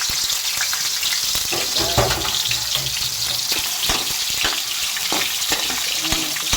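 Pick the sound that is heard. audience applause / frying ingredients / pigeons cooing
frying ingredients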